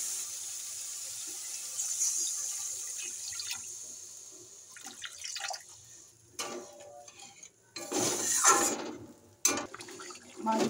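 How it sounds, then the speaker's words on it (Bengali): Water is poured into a pan of fish curry masala being cooked, splashing and running in short bursts that grow louder toward the end, with quieter kitchen sizzle and clinks between. "মশলা কষানো হয়ে গেছে, এবারে আমি জল দেবো।"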